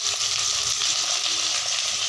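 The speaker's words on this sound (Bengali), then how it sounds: "আলুগুলো একটু ভাজা করে নিচ্ছি।" Potato pieces fry in a pan with salt and turmeric, giving a steady, even sizzle and soft crackle throughout, with no voices over it.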